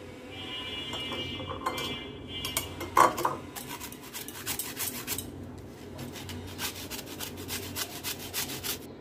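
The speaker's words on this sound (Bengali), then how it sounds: "এবার একটা গ্রেটারের সাহায্যে আম গ্রেট করে নিব।" Peeled raw green mango scraped against a kitchen grater, giving close, rhythmic rasping strokes that repeat steadily, with a few light clinks between them.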